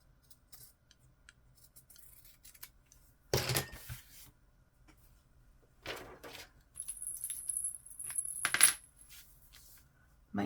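Scissors trimming, heard as a few sharp, close snips and clicks that stand alone, with quiet pauses between them.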